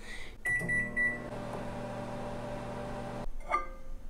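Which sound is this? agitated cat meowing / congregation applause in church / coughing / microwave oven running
microwave oven running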